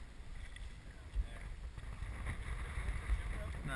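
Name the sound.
canoe being paddled on water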